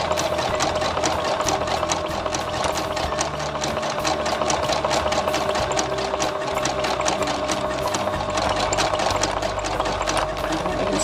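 A domestic sewing machine runs steadily, zigzag-stitching cord into fabric to form a piping bowl, its fast needle chatter continuous and close throughout with no talking.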